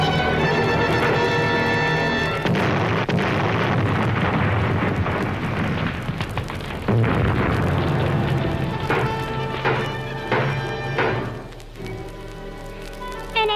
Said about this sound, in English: Pretty soon they were blowing up whole cities.